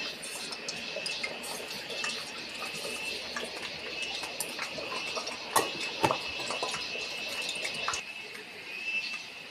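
Mustard seeds crackling and popping in hot oil while making mango curry, a steady stream of small, sharp pops and sizzling spits, with a few louder bursts in the middle, close up.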